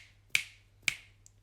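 Two crisp finger snaps about half a second apart, close and alone in a quiet room, followed by a faint softer tick.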